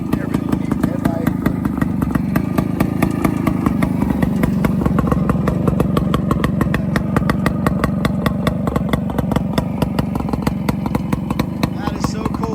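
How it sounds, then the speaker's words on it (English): A Harley Davidson Hummer two-stroke motorcycle engine runs steadily close by, with a continuous rapid popping putter and a low throb. Its rhythm stays even throughout with no clear revving. "Harley Davidson two-stroke, Harley Hummer"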